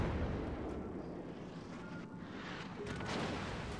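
Heavy torpedo explosions strike a ship in a naval combat game, a continuous loud rumbling roar of blasts and debris with no pauses.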